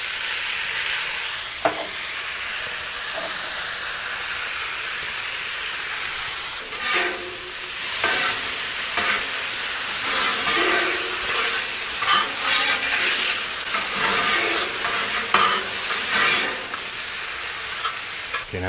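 Bacon and corn frying on a Blackstone griddle: a steady loud sizzle with intermittent scraping and stirring of a spatula across the flat top, close up and without talk.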